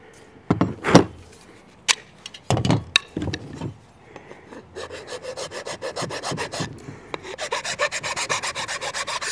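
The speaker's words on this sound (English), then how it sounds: "The rasp will leave some kind of rough looking cuts on the wood." A hand rasp files a wooden AK rifle stock being fitted to a new receiver, first in a few separate loud scraping strokes, then in a steady run of quick rhythmic rasping passes, close and alone.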